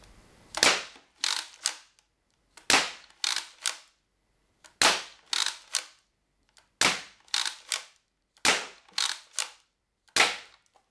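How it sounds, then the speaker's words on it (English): A modified Lanard OCTOshot toy blaster fires eight sharp, snappy shots in quick clusters of two or three, each close and loud with short gaps between bursts, and no one talks over them. "So I'll be firing it at my radar box over there"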